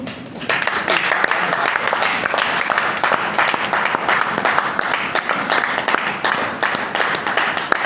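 A Toastmasters club audience gives resounding applause to welcome a speaker, sustained dense clapping from many hands that starts abruptly and carries on loud and close for several seconds.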